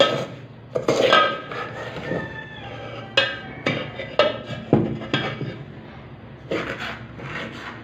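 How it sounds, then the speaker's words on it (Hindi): Herbal powders are mixed in a bowl with a spoon, giving a series of close scraping and clinking strokes in bursts with brief pauses between them, and no speech. "बिल्कुल मिक्स कर लेंगे हम।"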